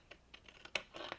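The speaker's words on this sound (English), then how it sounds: "position your scissors, and then cut on the edge" Scissors cut paper along the edge for a matting album, a series of faint, crisp snips and crinkles at an irregular pace, close and quiet with no talking.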